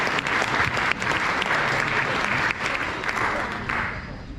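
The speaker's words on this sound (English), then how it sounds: "So a round of applause for Nathan." Audience applause at a football club family induction, steady clapping from a crowd that carries across the whole moment at a loud, even level.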